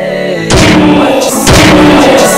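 Loud gunfire from a guard in the stealth video game Sneak Thief, two heavy bangs about a second apart, each with a booming tail, close and dominant with no talk over them.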